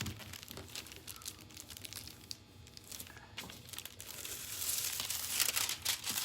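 Thin metallic foil crinkles and rustles in bursts as warm hands press it onto a surface, the irregular crackles growing louder and denser toward the end, close up and without speech.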